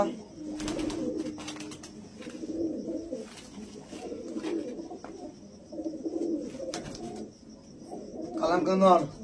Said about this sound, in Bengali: এখানে 32টা পায়রা হবে, এখানে 33টা পায়রা হবে